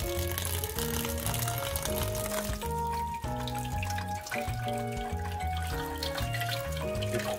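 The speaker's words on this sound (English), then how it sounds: "We cool it to the cold water" Cold tap water runs steadily over strained noodles in a kitchen sink, a continuous splashing stream partly beneath louder melodic background music.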